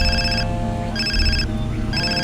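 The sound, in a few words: telephone ringing in a video game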